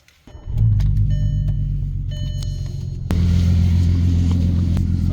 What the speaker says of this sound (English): Get a quick startup on the R32. See how this thing sounds like.